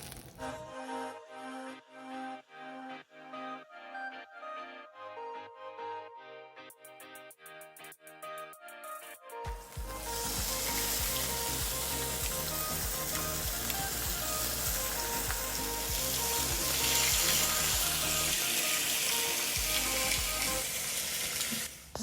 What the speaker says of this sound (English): Now I am going to put in the other 2 pieces of pork